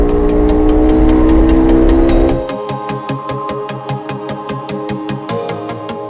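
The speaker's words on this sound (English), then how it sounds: "It's got a nice throaty bass to it, so especially when you're revving the engine, it sounds really good." A Bajaj Dominar 400 single-cylinder motorcycle with dual exhaust revs loudly and steadily for a couple of seconds, then drops to a lumpy idle, its deep thudding pulses ticking regularly and close by with no talk.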